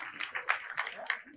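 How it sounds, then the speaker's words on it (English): A small audience at an election training-of-trainers event claps briefly for a presenter. The claps come as short rhythmic bursts under a quiet room tone. "Is there an applause for him as well?"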